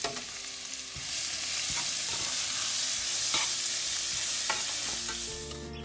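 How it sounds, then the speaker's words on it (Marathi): Grated green mango roasts in a hot pan, giving a steady close sizzle with repeated scraping stirs from a spatula and no talk. "तर याला असं 4-5 मिनिट चांगलं भाजून घ्यायचं."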